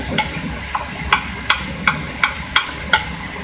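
Spices being stirred in a frying pan for a haddi guddi (bone and trotters) curry, with red chili powder and turmeric in the mix: a soft sizzle underneath, with about nine evenly spaced scraping clicks as the spoon moves through the masala, and no talk.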